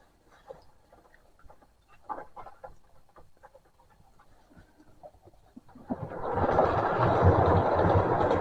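A model railway train runs along its track, starting as faint scattered clicks and rattles before swelling at about six seconds into a steady, close, loud rumbling roar that continues to the end.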